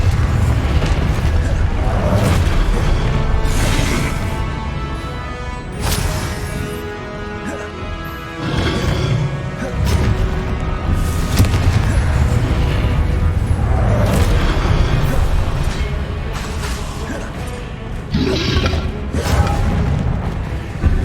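Incendio and Confringo spells go off in Hogwarts Legacy as a loud series of fiery booms and crashing bursts, with several separate impacts spread across the stretch amid constant combat noise.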